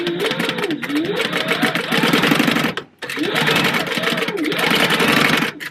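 A sewing machine stitches a zipper pouch for a wallet in two loud, steady runs of rapid mechanical stitching, separated by a brief pause near the middle.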